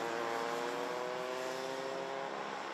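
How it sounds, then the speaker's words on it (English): Mini Max racing karts crossing the line to finish the second lap of a prefinal, a steady, loud buzz of small two-stroke engines with layered harmonic whine that holds level throughout, no voices. "the field comes across the line to complete the second lap of racing"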